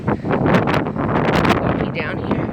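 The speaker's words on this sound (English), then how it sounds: "It's a little windy yet" Wind buffets the microphone outside a tornado-damaged house in Warrick County, Southern Indiana, a loud continuous rushing roar in gusts with people talking under it.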